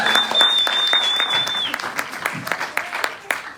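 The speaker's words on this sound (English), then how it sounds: "A round of applause, please." An audience at a public hearing claps, a broad patter of many hands that thins into scattered individual claps, with a high whistle-like tone and some voices mixed in.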